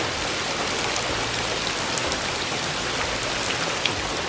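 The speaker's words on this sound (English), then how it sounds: "And it is pouring down rain still." Heavy rain pours down steadily at a woodland Appalachian Trail shelter, a dense, unbroken hiss of drops drumming on surfaces close by, with no voices.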